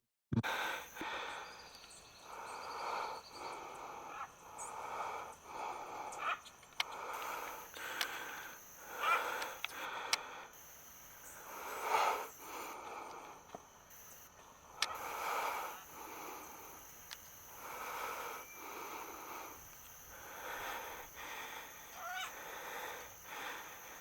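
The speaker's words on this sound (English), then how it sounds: "I don't know if you heard someone like breathing. That was me because I had to cross the fence and run through the forest" Someone breathes heavily, close and quiet, in repeated rhythmic puffs after crossing a fence and running through a forest, with steady insect and bird sounds behind.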